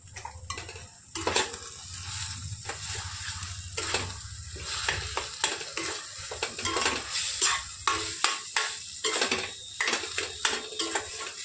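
A spiced snack mixture with biryani masala and tomato sauce is sautéed in a pan: a utensil scrapes and clatters again and again in an uneven rhythm over a constant sizzle, near and fairly loud, with no talking.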